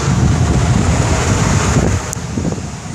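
Wind roars and buffets the microphone at an Outer Banks beach, almost masking the surf beneath it. The waves wash steadily underneath, and the gusts ease slightly toward the end.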